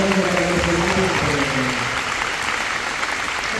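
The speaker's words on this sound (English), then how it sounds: "Give them a round of applause" An audience at a TEDx Detroit talk applauding, a dense, even wash of clapping from a large crowd that holds steady and slowly thins, with a faint voice fading out at the start.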